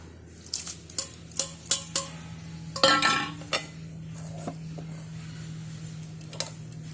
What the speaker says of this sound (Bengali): এটা ভালো করে মেশাতে থাকবো